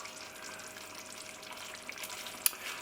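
A meat-free chick'n curry bubbles and sizzles gently in a pan on low heat, a soft, steady frying hiss with faint stirring clicks and one small sharp tap near the end.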